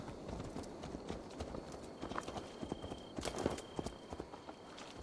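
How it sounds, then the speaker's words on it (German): Steady clip-clop of horse hooves trotting along at a brisk, even pace, with faint ambient noise and a thin high tone in the background, from a horse in the video game Assassin's Creed Valhalla. "Bringen wir zuerst das Pferd zurück."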